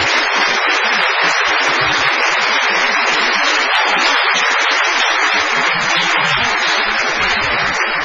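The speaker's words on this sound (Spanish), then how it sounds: "Vamos a aplaudir a Karina" A studio audience applauds a guest on an Argentine radio program, a dense, steady wash of many hands clapping at full volume for about eight seconds with no pauses.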